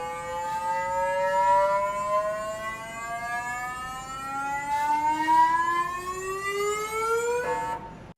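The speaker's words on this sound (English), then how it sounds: "Sample Analysis at Mars, resonates and it makes a buzzing sound." Curiosity Mars rover's SAM (Sample Analysis at Mars) instrument gives off a resonant electronic buzz, a steady tone with harmonics that slowly glides upward in pitch like a tune, then cuts off abruptly at the end.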